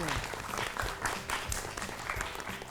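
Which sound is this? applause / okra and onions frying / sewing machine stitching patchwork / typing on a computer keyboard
applause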